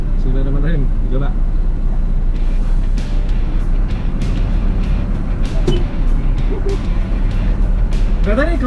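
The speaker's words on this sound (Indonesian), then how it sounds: "Pengalaman baru nyetir truk gede manual." A large Mercedes-Benz truck with a manual gearbox drives along, its steady low engine rumble continuous and loud beneath people talking, with occasional clicks and knocks from the cab.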